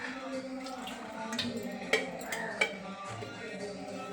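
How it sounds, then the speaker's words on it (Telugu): A pot is set on a stove and cooking oil poured in for a mutton bone curry, with faint clinks of cookware and a couple of sharp metallic knocks over a low kitchen background. "పొయ్యి మీద ఒక గిన్నె పెట్టుకొని ఇప్పుడు నూనె వేసుకుందాం."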